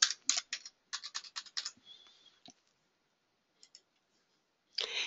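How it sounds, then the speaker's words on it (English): Quick bursts of keystrokes on a computer keyboard as a number is entered, clicking in a close, quiet room, then a pause and a final short run of taps. "I just type in the number."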